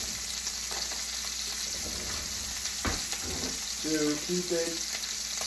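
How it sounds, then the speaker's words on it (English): Butter sizzling on a steak in a hot pan, a steady close hiss with a few soft scrapes, while someone speaks briefly over it near the end. "Now, I will put some butter on this bad boy"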